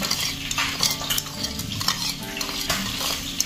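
A spoon stirs and scrapes food seasoned with pepper and sugar in a hot frying pan, busy rhythmic scraping and clinks over a constant sizzle, close and fairly loud, with no talk.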